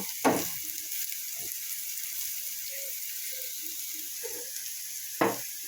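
Lentil fritters with Malabar spinach fry in oil, making a steady close hiss of sizzling with a few soft knocks and clatters as they are turned in the pan.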